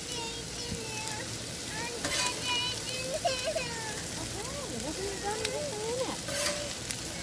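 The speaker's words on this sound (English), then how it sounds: "we're going to let the shrimp cook up a little bit" Shrimp sizzles steadily in a pan over a camp stove for teriyaki, a constant frying hiss with occasional faint clinks and a voice murmuring over it.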